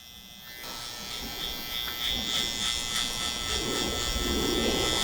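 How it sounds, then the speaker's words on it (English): Electric hair clippers fading Afro hair at a barber's, a steady close buzz that starts after a brief quiet moment and grows slightly louder as the blade works through the hair. "as I come closer to my zero line with the clippers, I'm just flicking out"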